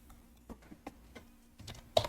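Keys tap on a computer keyboard as a short command is typed, sparse uneven clicks with a sharper final keystroke like an Enter press, quiet and close with no talking.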